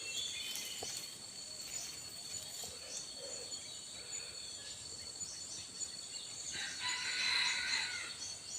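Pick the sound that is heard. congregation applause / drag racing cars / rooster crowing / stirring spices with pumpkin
rooster crowing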